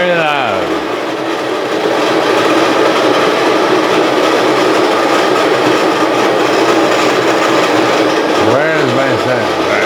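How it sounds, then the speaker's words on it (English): A coffee grinder runs loud and steady for nearly the whole stretch, a dense continuous whir starting and stopping abruptly near the end. "Alright, so I'm gonna grind, it's gonna be loud."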